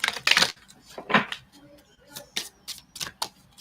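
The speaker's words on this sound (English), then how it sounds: "I'm actually shuffling the cards" Oracle card deck being shuffled by hand, close crisp riffling bursts and flicks in irregular rhythm, moderately loud with brief quiet gaps.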